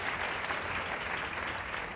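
Audience at a women's celebration luncheon event breaks into dense, steady applause, a full crowd clapping continuously at moderate volume for the whole stretch.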